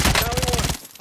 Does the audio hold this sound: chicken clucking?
no